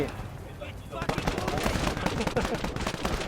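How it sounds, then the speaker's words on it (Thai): Gunfire from the WarAlert WWII real-time strategy game sounds as rapid bursts of machine gun fire, building into dense, continuous rattling with layered battle noise. "ยิงไส้แตกเลยนะ โดนซะ ไปสิคุณโค้ก"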